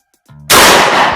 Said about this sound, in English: That's a sheetrock wall versus 2 3/4 inch double up buckshot 12 gauge.